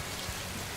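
Steady rain falls as an even, hissing wash with no breaks or other sounds.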